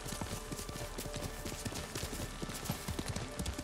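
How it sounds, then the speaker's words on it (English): Horse hooves gallop in Ghost of Tsushima, a fast, steady run of close, distinct clip-clop beats continuing throughout over a soft outdoor wind bed. "I'm about to get off this horse again."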